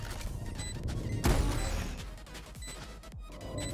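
A satchel charge is thrown in a tense tactical shooter round, landing as a single loud thump and crash over busy game sound effects, followed by a softer rumble and clatter.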